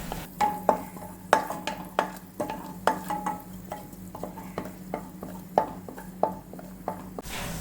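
Chopped garlic sautéing in melted butter, sizzling steadily with a low frying hiss, punctuated by repeated sharp clicks and scrapes of a utensil stirring against the pan at an irregular pace.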